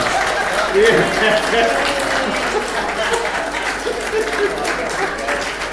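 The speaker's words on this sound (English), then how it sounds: "So if we can give Balthazar a round of applause." Church audience at a Christmas service giving a steady, dense round of applause that fills the space evenly, with voices mixed in underneath.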